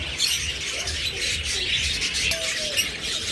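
Budgerigars and other pet birds in cages at a bird seller's shop chirp busily, with many overlapping high tweets and calls running without a break, close and fairly loud.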